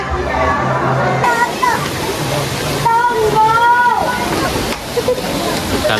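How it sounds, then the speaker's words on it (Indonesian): River water rushes and sloshes steadily near a camping area, loud and close, with people talking and a voice over the flow. "Sungai."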